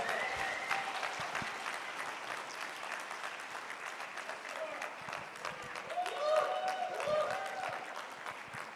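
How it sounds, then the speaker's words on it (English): A conference audience applauds continuously at the AfriLabs Annual Gathering, a steady mass of clapping hands heard from within the crowd, with scattered voices and cheers mixed in. "I'm going to ask you all to put your hands together for Oscar Nchaso."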